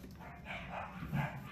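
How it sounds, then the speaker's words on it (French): Small dogs give a few soft, muffled barks and yips in quick succession from somewhere indoors, faint and a little distant. "Ah, désolée pour mes petits chiens."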